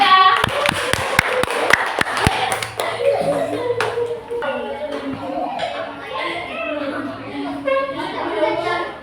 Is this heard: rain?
no